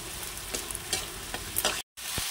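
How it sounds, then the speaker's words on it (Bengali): Ginger paste, garlic and green chilli paste frying with tomato in a pan, a steady close sizzle broken by a few stirring scrapes and a brief silent gap. "মশলাটা একদম পুরো ভাজা ভাজা হয়ে গেছে"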